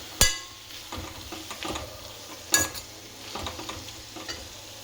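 Marinated paneer and vegetables stir-frying in a pan for a paneer roll, with a steady sizzle broken by a few sharp scraping clatters of a spatula against the pan, close and alone without talk.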